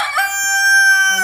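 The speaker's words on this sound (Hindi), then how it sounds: "एक्चुअली मुर्गियाँ बिना वजह ही बोल रही थी, कोई ऐसी बात नहीं थी।" Chickens at night, one rooster crowing a single loud, drawn-out cock-a-doodle-doo close by, ending in a short cluck, with no voices.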